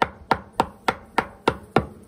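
A hand knocks on a wooden Mandaçaia bee hive box to imitate a woodpecker, seven sharp, evenly spaced raps at a steady quick rhythm, close and crisp with no voices.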